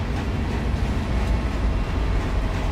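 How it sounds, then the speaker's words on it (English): A loaded BNSF grain train rolls past steadily in the Run 8 train simulator, a continuous low rumble of railcars heard close and fairly loud with no talking. "Looks like a loaded grain train headed to Fresno."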